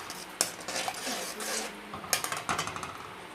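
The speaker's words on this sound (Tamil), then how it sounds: "இப்போ வந்து இந்த சக்கரை பாவில் வந்து முந்திரி திராட்சை போட்டுடலாம்." Roasted cashews and raisins dropped into sugar syrup in a metal pan, with a sharp clink, rustling scrapes and a quick run of small metallic taps from a spoon against the pan, close and distinct.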